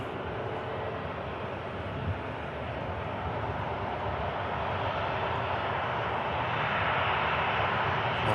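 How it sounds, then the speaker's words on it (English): An airliner taxiing at Manchester Airport, a steady broad engine roar at moderate distance that slowly swells over several seconds with no voices. "Another aircraft heading down to Tenerife here."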